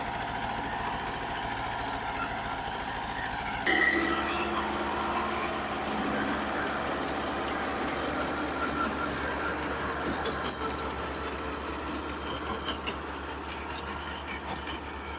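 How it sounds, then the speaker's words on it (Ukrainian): A small tractor preparing soil for planting strawberries runs steadily up close, its engine chugging and knocking in a constant low drone for the whole stretch, with faint rattles and clanks over it and no clear speech. "Це скоро два роки, як він нас працює тракторець."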